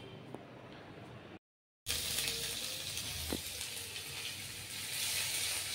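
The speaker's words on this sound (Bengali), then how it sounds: "এখানে ফোড়ন দিয়ে দিলাম জিরে, আদা কুড়িয়ে নিয়েছিলাম, তেজপাতা আর শুকনো লঙ্কা" Cumin, ginger, bay leaf and dried chilli tempering in hot oil for a pumpkin-leaf dal, a steady broad hiss of sizzling after a brief silent gap, close and continuous.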